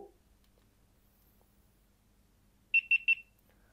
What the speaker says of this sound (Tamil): ரெண்டு பீப் சவுண்டு கேட்டுச்சு